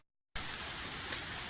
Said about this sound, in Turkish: Ama yağmur yağıyor şu an.